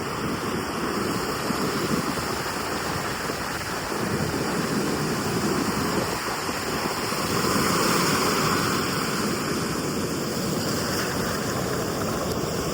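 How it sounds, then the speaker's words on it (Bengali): Sea waves rolling onto Mandarmani beach on a cloudy morning make a steady, continuous surf wash, mixed with wind buffeting the microphone, with no talking. "আর এই সকাল সকাল সমুদ্র দেখা তোমরা।"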